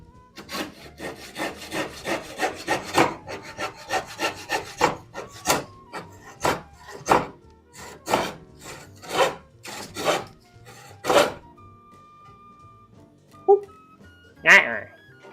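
Hand saw cutting pallet wood, a steady run of rasping back-and-forth strokes that speeds up, then slows to spaced single pushes before stopping, close and fairly loud with no talk.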